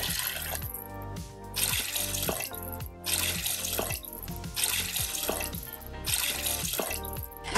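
Five to six cups of water pour from a tap into a pressure-cooker pot of pulses for a dinner dish, a steady splashing stream that comes in several pulses with brief pauses between.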